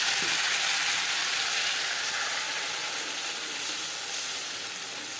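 Ginger and green chilli paste frying in hot mustard oil with mutton fat for chana masala, giving a loud, dense, continuous sizzle that fades slightly toward the end, close by and alone.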